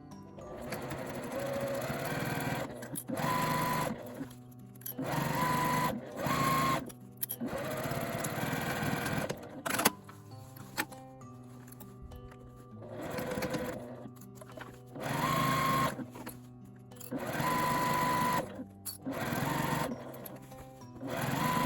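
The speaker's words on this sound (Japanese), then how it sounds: "この切り替えのところは開けて、あとは1センチの縫い代で縫います。" Home sewing machine stitching a bag seam with a 1 cm allowance on an A4-size sacoche, running in bursts of steady whirring and pausing between runs, close and fairly loud with no talk.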